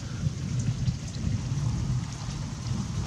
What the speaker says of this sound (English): Thunder and lightning in a big rainstorm.